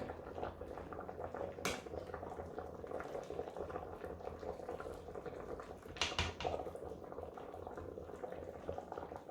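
Sugar syrup simmering in a pot while cooking, a soft, continuous bubbling with a couple of brief sharper clinks or scrapes, fairly quiet and close.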